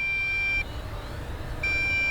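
Low battery warning from an MJX Bugs 6 drone controller, two sustained high electronic beeps, each over half a second, separated by a one-second pause, heard close over faint outdoor background noise.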